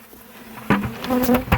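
Honeybees buzzing inside a bucket, close and loud with a steady droning hum, sharpened by a sudden knock partway through that stirs a louder swell of buzzing and a second brief thump near the end.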